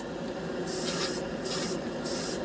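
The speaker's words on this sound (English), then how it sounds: "This is the primer I use is Mr. Surfacer in the spray can." Mr. Surfacer primer sprayed from an aerosol can, three short hissing bursts in quick succession, close and loud, with a faint rub between them.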